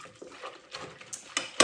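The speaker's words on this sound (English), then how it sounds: "I'm actually gonna grab a whisk." A whisk clatters and scrapes around a bowl, mixing a sourdough bread pre-mix in quick, uneven strokes with sharper clinks toward the end, close and fairly quiet.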